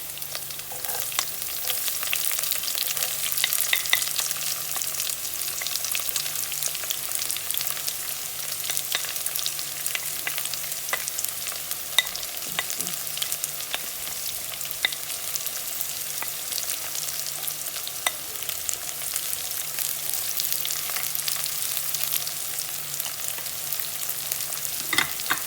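Onions and garlic sizzle steadily in a hot pan for cooking chicken mandi rice, a continuous crackling fry with occasional scrapes of stirring, close and fairly loud, no talk.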